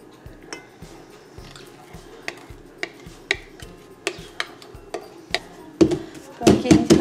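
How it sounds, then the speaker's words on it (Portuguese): Repeated light taps of a cake pan holding chocolate cake batter, sharp knocks spaced about every half second, growing louder and denser toward the end, with soft wet squelches between hits. "a gente dá uma batidinha aqui na massa para as bolinhas de ar subir"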